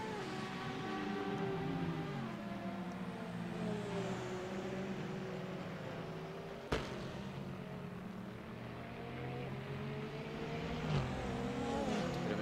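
Race cars in a racing video game running through the Nürburgring's Schumacher S: continuous engine roar with pitch dropping and rising through the bends, plus a sharp click-like transient midway and a smaller bump near the end.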